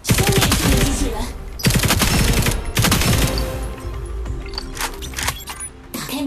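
Rapid automatic fire from a mobile shooter, Operation Apocalypse, aimed at a robot during a training stage: loud, close bursts of machine-gun shots in quick rhythmic volleys with short pauses between them.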